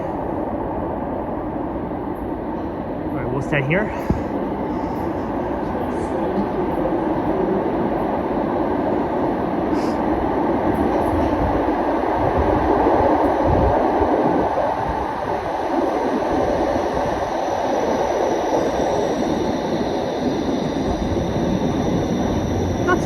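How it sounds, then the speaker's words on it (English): A westbound Line 5 light rail vehicle in Toronto on Don Mills Road rumbles past as a steady, broad roar that swells mid-clip and fades, with a person speaking briefly near the start. "westbound Line 5 LRV."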